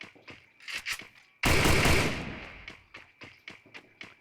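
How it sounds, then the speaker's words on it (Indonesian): MAG7 shotgun fire in an online shooter tournament match, one loud close blast ringing out among several sharper, fainter distant gunshots and clicks, with no voices. "Ra Killer headshot Tolip menggunakan MAG7."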